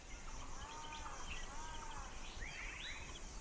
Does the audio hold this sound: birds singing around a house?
yes